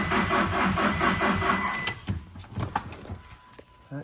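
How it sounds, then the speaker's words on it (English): A car engine cranking over on its starter with a jump pack attached, giving a loud rhythmic chugging that stops abruptly partway through, followed by scattered clunks and a faint hum. "So we're just gonna turn it over and hopefully it turns over."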